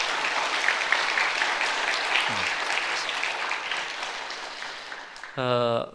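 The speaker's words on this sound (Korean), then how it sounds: "여러분들 한번 박수로 한번 격려하겠습니다" A church congregation claps steadily and fairly loudly throughout, with a brief burst of a harmonic tone near the end.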